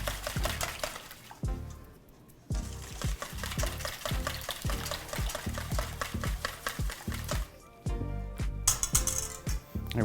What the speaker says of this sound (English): And then we're gonna just whisk it in.